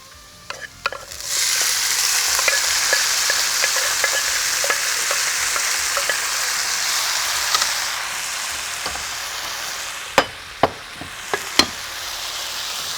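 Boiled cluster beans drop into a hot pan with a clatter and burst into a loud, steady sizzle, followed by rhythmic stirring and a few sharp knocks of the spoon against the pan.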